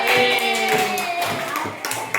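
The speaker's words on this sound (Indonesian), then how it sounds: "Tepuk tangan dulu" Children clapping hands together in a classroom religious lesson, a brief patterned round of claps mixed with a teacher's voice and children's voices throughout.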